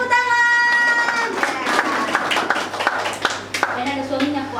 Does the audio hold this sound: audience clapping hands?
yes